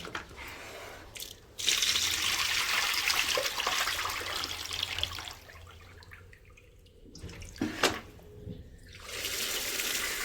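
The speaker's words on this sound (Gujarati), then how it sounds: "વ્યવસ્થિત ધોઈ નાખીએ વેફરને" Water sloshing and splashing in a container as potato slices for chips are rinsed, with running-water bursts and brief pauses between.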